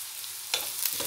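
Onions sautéing in a pan for Ilocano-style pansit with cabbage and shrimp, a soft steady sizzle broken by a few bursts of stirring and scraping, close and alone.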